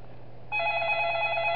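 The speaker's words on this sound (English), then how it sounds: "Oh, I didn't think we got a phone call, but we did." Telephone ringing in the video game Five Nights At Darl's, a bright electronic ring that starts abruptly after a short quiet lead-in and holds steady, close and clear with no talk.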